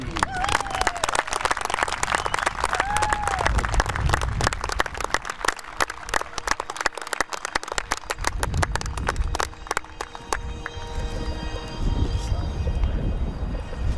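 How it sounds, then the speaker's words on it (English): A baseball crowd gives a round of applause at a ballpark ceremony honoring graduating high school seniors. Scattered claps rattle sharply across a broad outdoor space, thinning out toward the end of the applause. "please give one more big round of applause for the 15 North Penn Knights"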